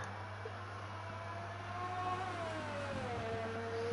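A racing car engine at Monaco in a racing video game hums steadily as the car coasts through corners, a droning tone that rises and falls gently under faint background noise, with no talk.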